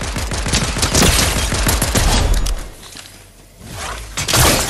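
Rapid bursts of automatic gunfire from a Fortnite match, loud and dense for over two seconds, then a brief lull before more shots crackle back in.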